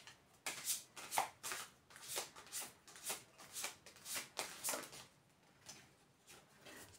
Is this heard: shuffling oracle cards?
yes